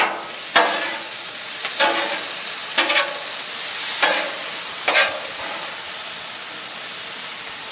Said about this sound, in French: vous commencez par mettre vos oignons et puis vous ajoutez après votre ail